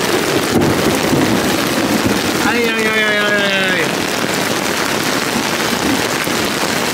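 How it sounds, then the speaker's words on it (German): Heavy thunderstorm rain pours down steadily on a forest, a dense, loud hiss that never lets up, while a voice briefly exclaims partway through. "Der Regen muss weg, das ist richtiger Starkregen."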